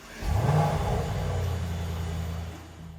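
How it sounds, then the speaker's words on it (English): A Mercedes-AMG E63 Final Edition V8 fires up with a sharp rising bark, then settles into a loud, steady, rumbling idle that lingers for several seconds. "Let's turn on the car and see what the E63 Final Edition sounds like"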